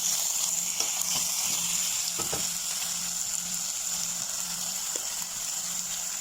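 Bite-size chicken pieces sizzle steadily in a hot pan for sutanghon soup, a continuous hissing fry with occasional soft stirring clicks and taps, close and even in level.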